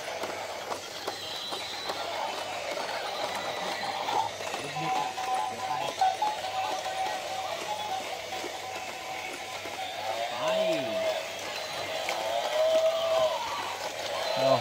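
A herd of zebras runs together beside a swimming pool, their hooves making a busy clip-clop patter of many feet that rises toward the end, mixed with a faint background tone and no speech.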